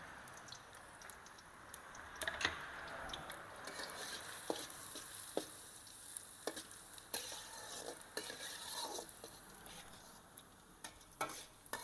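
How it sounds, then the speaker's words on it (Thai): Garlic sizzles quietly in a metal wok, with soft frying crackle and a few sharp scrapes and clinks of a stirring utensil. "เอากระเทียมลงมาเจียวนะครับ"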